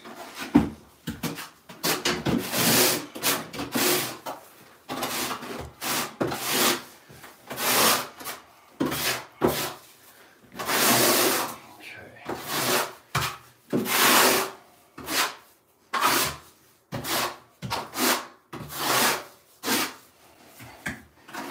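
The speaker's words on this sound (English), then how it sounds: "you want to just do directional troweling" A trowel scrapes back and forth across shower floor substrate during a curbless shower build, a series of loud, rhythmic rasping strokes with short pauses between them and no talking.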